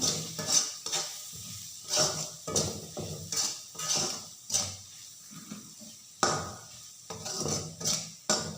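A spoon stirs and sautés dal roast with pepper powder in a pan, scraping in a steady rhythm of repeated strokes over a soft sizzle, close and clear.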